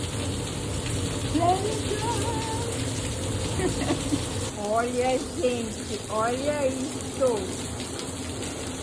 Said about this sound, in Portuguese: Olha, gelo. Granizo, gente.